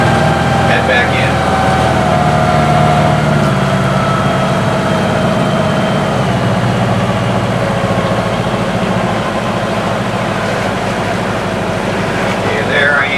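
A classic powerboat's engine at low cruising RPM, about 1550, a steady loud droning rumble heard close aboard with water wash beneath it, holding constant throughout.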